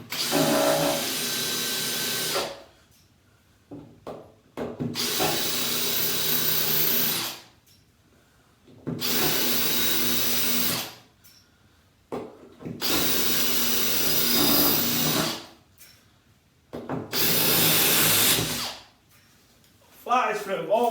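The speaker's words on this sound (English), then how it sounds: "All we're doing is drilling through the tile" Power drill boring through ceramic floor tile into the wood beneath in a bathroom renovation, five loud bursts of a few seconds each separated by short quiet gaps, close to the microphone.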